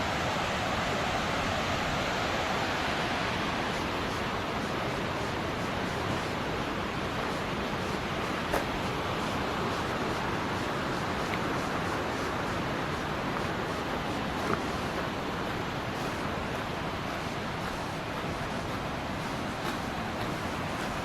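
Yellowstone River rushing beneath a bridge in Montana, a steady, loud, unbroken roar of fast water filling the whole span without pause, with no voices over it.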